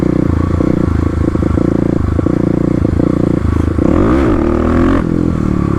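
A Kawasaki KLX351 dirt bike drones loud and close, then revs sharply upward and falls back as the clutch is dropped for a wheelie, with some clatter around the rise.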